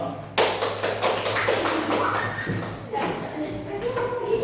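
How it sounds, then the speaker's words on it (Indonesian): Classmates clap for a student in a classroom, scattered claps starting sharply and continuing unevenly with a second burst, while voices talk over them. "Tepuk tangan untuk Mas Reno."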